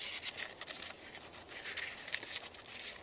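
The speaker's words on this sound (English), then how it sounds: "Again, a little light sandpaper." Car battery post connectors get a quick rub with light sandpaper: a soft, hissy, fairly faint scrubbing of short back-and-forth strokes, close by with no talking.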